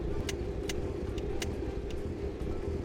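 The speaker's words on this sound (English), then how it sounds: "Let her idle on the choke, or off the choke." An old car engine idles on the choke with a steady, close low rumble, and a few faint ticks sound over the constant hum.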